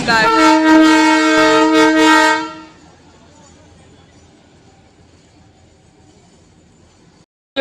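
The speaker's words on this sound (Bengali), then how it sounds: "toy train" A Darjeeling toy train sounds a loud, sustained horn for about two seconds as it arrives, then the blast cuts off, leaving a quiet low rumble of the station.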